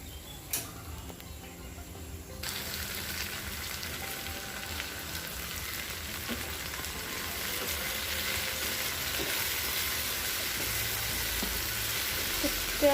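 Okra fried in oil in a pan, a steady bright sizzle that starts softly and swells loud after a couple of seconds, then holds continuous and close with faint stirring ticks and no talk.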